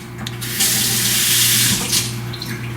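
Water runs in a steady, rushing stream for about two seconds, close and fairly loud over a low electrical hum, while preparing homemade Chico's-style tacos at home.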